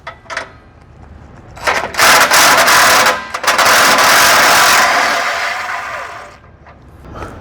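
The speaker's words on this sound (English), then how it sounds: "So with an impact, a 9/16 socket, and an open end wrench, we're going to go ahead and remove this bolt." An impact wrench fitted with a 9/16 socket works a bolt loose on a BAL Retract-A-Spare, loud harsh rattling bursts that build, hold for a few seconds and then taper off.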